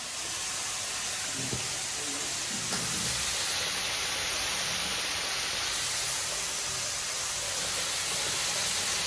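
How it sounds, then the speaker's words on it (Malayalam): Shallots, garlic and coconut frying in oil, a steady broadband sizzle that stays loud and even throughout, with a few faint clinks near the start and no talk. "ഇതിൻ്റെ അടിയിൽ ചെറിയ ഉള്ളിയും അതേപോലെ വെളുത്തുള്ളിയും എല്ലാം ഉണ്ട്. ഇതെല്ലാം കൂടി എണ്ണയിൽ മൂപ്പിച്ചെടുക്കട്ടെ."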